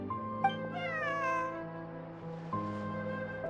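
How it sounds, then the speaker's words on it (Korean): A cat meows a few times in the video game Genshin Impact, with clear rising and falling cries over a steady, sustained game music backdrop. "제 고양이 같은데요"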